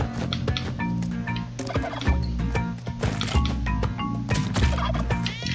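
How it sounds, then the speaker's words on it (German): Turkey in Spelunky 2 gobbling repeatedly, loud and close, with rapid rattling calls over constant game music and clanking effects, no talk. "Wir nehmen uns jetzt einfach den neuen Truthahn."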